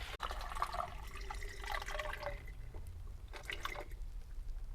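Distilled water trickles and pours into the cells of a golf cart battery, faint close-up gurgling and splashing in short bursts with quiet gaps between fills.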